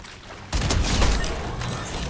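Gunfire in a Fortnite-style battle royale video game erupts suddenly as a dense, loud burst of rapid shots and impacts that continues steadily for about a second and a half.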